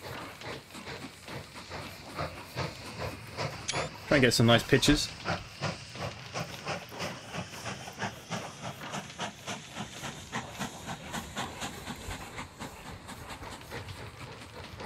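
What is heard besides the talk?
steam train leaving its shed in the video game Mashinky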